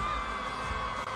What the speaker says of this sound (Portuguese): Tá sim, olha, o pessoal tá gritando.